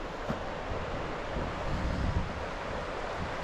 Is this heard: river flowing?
yes